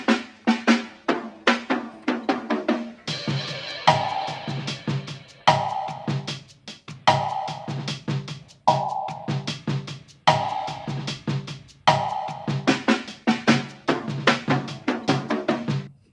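A looping drum beat with crisp hits, snappy snares and steady percussive patterns, repeating in a tight, even rhythm with no voices.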